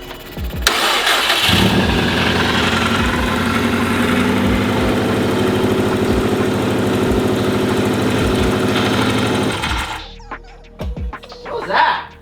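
Subaru WRX STI cranking and firing up on its first start, then running with a steady rough idle and rhythmic knocking pulses for several seconds before cutting off, followed by quieter clatter and brief handling noises.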